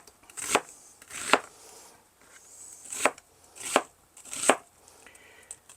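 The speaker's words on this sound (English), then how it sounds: "let me get the onion diced up and get that into the meat so it can actually cook a little bit as well" A knife dices an onion on a cutting board for a meat casserole, giving six sharp chops spaced roughly evenly, close and crisp, with quiet gaps between them.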